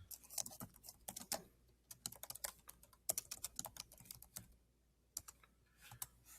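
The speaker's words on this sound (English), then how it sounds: "I've titled it, and I want to start typing." Fingers typing on a computer keyboard, close and crisp, in quick bursts of rapid keystrokes separated by short pauses, with no voice over the clatter.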